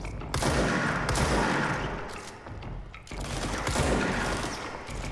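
Sustained bursts of automatic gunfire in the video game Control, loud and continuous with a brief lull midway before the firing resumes.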